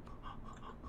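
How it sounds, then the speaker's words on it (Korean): Short burst of rhythmic panting breaths in the Minecraft video game, quick close huffs repeating evenly over under a second, no talking. "이 근처에서 헉헉 소리가 들리는데?"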